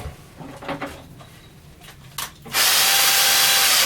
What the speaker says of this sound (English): I think I'll drill a pilot hole